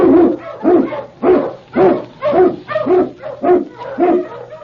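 An Eskimo sled lead dog, a swift, strong working dog in a snowy Yukon setting, barks loudly and close in a steady rhythmic series of about eight or nine sharp barks with no speech.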